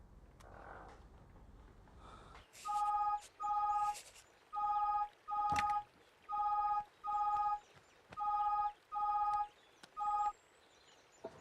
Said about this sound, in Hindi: उस भोसड़ी वाले दुबे को फोन लगाओ